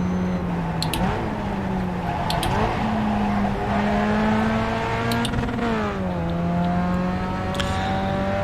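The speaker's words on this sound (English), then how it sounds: "We are coming up to be lapped by a Mustang yet again." A Mustang race car in iRacing at Oulton Park laps past with a loud, steady engine drone whose pitch climbs and shifts as it goes by, joined by other engine tones, with no talking.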